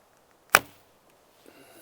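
Arrow loosed from a laminated Korean bow: one sharp, close snap of release with a quick fading whoosh, then near silence and a faint rustle.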